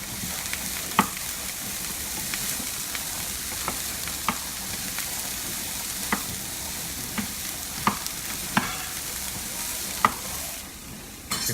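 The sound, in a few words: stirring chickpeas browning in a pan without oil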